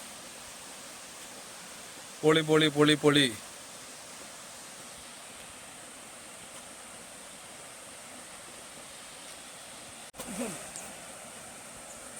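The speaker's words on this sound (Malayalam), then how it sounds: "എന്റെ മോനെ നോക്കിയ അടിപൊളി വെള്ളച്ചാട്ടം" The Kanjar waterfall in Idukki gives a steady, broad rush of falling water throughout, broken by a short burst of excited shouting early on and a brief voice near the end.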